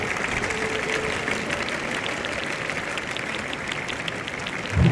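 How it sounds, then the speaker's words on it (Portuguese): An audience in a large assembly hall at the United Nations claps in steady, sustained applause, dense and moderately loud throughout, with a louder burst right at the end. "o Lula falou e aí um bando de otário aplaudiu esse cretino"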